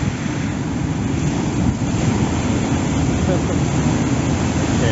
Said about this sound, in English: an incredibly high sea